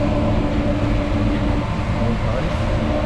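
A Paris subway train rumbles steadily in a loud, enclosed space, a constant droning roar with no breaks.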